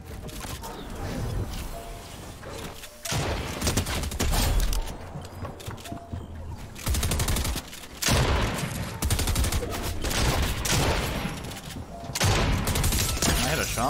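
Gunfire in Fortnite Chapter 3, a Solo Duo Arena match, with bursts of shots fired repeatedly and almost without a break across the clip, loud and dense, over game sounds.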